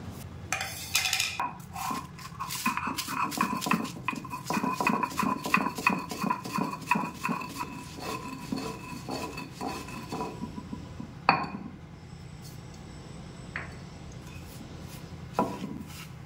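Fried dry chillies, cumin and fenugreek ground by hand for Bengali mango pickle oil, a rapid run of sharp grinding knocks and scrapes that thins out into a few scattered clacks toward the end.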